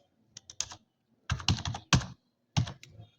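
Typing a folder name on a Windows 10 computer keyboard: sparse clicky keystrokes, a few light taps early, then clustered bursts of sharper key presses, close and clear with no talking.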